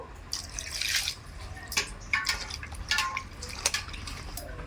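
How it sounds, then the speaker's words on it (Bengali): Cut potatoes, eggplant and beans are washed in water, producing soft splashes and drips in irregular bursts, close and fairly quiet, with no talking. "আলু বেগুন শিম একবার আমি ধুয়ে নিয়েছি আর একবার ভালো করে ধুয়ে নেব"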